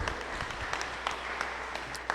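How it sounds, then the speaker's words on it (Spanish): A church congregation claps for a brother who has just spoken, giving soft, moderately dense applause with a low hum underneath and individual claps standing out now and then. "Un aplauso al hermano."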